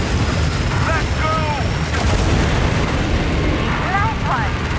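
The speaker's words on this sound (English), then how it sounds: "The main cannon is almost ready to be fired again." Heavy booming cannon fire with bursts and explosions in the Death Stranding 2 video game, a dense continuous barrage with rumbling low end, swooping electronic tones and a sharp crack near the middle.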